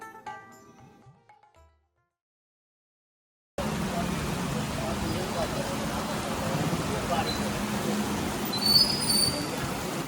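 Heavy rain falls at a petrol pump, a dense steady hiss that starts abruptly after a short quiet stretch with faint talk, then stays loud and even to the end.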